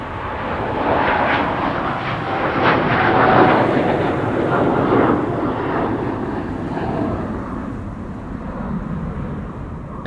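An airliner departs Amsterdam Schiphol Airport, probably from runway 18 Left. Its jet roar swells to a peak near the middle and then fades slowly, heard at a distance with no talking.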